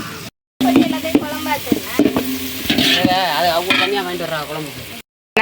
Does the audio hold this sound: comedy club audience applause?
no